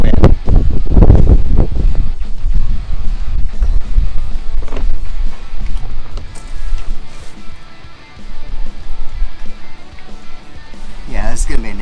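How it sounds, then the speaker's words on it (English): Strong wind buffets the microphone aboard a sailboat with low rumbling gusts, continuing steadily throughout with some rustling. "There's the wind."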